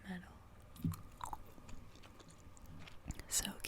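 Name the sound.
gum chewing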